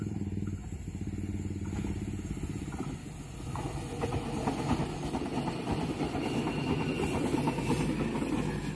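A train rounds a sharp curve at Kalimenur, Kulon Progo, Yogyakarta, near the airport, its steady rumble and rhythmic wheel clatter swelling louder as the cars roll past, with no voices.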